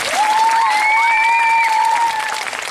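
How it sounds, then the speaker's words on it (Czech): Audience applause at a gala show in Prague, a steady dense wash of clapping lasting throughout, with a sustained whistle rising above the crowd. "Pro ty všechny poprosím ještě jednou o velký potlesk."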